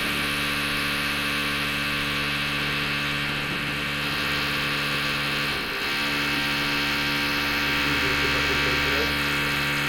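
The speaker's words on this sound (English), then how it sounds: "they're drilling some holes here" A steady, loud mechanical whine of a power drill runs throughout, with a brief dip midway, sounding nearby through a wall.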